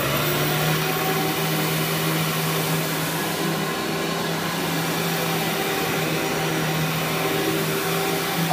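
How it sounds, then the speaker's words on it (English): Amway Workhorse CMS 1000 cyclonic vacuum cleaner running continuously as it sucks up spilled coffee, giving a loud, steady motor whine and airflow rush with no pauses or talking. "Now I'm just going to vacuum everything up."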